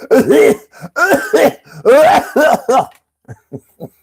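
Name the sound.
imitated coughing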